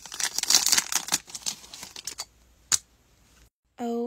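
Plastic packaging crinkling and tearing while a package of My Melody scissors is opened, a run of quick rustles and sharp snaps fading to a pause, then a brief tonal sound.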